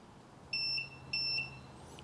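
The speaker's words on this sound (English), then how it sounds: "So on with the air fryer" An air fryer gives two short, high electronic beeps about half a second apart as it is switched on, close and clear in an otherwise quiet kitchen.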